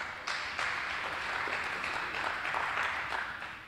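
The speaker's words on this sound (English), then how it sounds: "Please give him a round of applause for that." A conference audience at a lightning talks session claps in a steady, even wash of applause that holds for a few seconds at moderate to faint level, with no voices.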